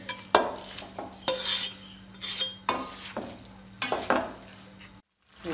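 Boiled spaghetti being stirred into a chicken mayo masala in a pan, with repeated scraping, clinking and wet sizzling strokes of a utensil, close and fairly loud, ending in a brief pause.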